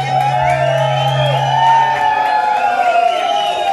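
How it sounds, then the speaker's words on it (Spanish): A loud crowd cheers and whoops, with high shouts and whistles rising over a dense, energetic roar. "Fuerte el aplauso para Cristal"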